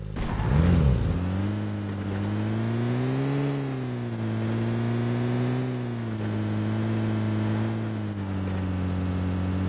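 A car engine in PUBG Mobile on the Livik map revs up and holds a steady, loud drone with shifting pitch, rising briefly as it accelerates and settling into a sustained hum for several seconds.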